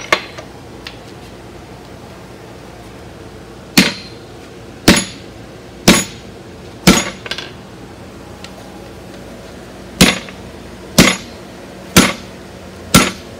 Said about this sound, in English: take my set hammer